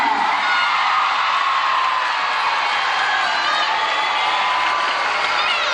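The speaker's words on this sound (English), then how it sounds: "The girls cheering for Nutka" A group of girls at Marineland cheers loudly for Nutka, a continuous burst of shouting, whooping and high voices that stays dense and unbroken from start to finish.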